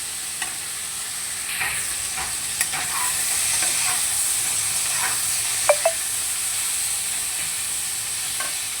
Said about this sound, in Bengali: আরও একটুখানি নেড়ে চেড়ে নেব সবজিগুলোকে